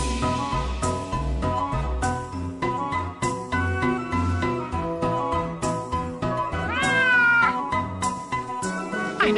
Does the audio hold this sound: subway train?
no